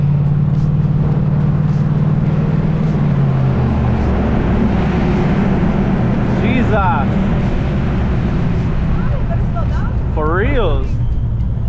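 Loud mini bikes ride close by with buzzing, whining engines rising and falling, while someone talks over the noise.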